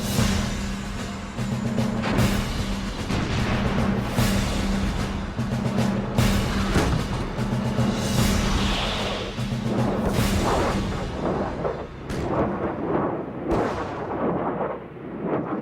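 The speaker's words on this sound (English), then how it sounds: "One of their key weapons was the multiple launch rocket system." A multiple launch rocket system fires rockets in a long series of heavy, booming blasts and roaring whooshes that overlap, with a low steady drone beneath.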